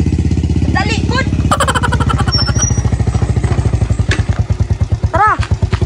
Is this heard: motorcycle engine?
yes